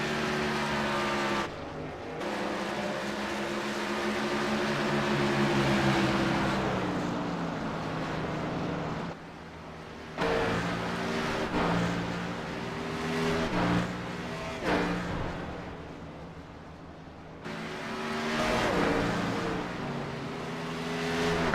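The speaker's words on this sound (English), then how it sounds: "You're hearing the sounds of all the cars" Race cars circle a track during single-car qualifying, giving a continuous loud engine roar that swells and fades as the car passes, with brief dips and a few sharp cuts along the way.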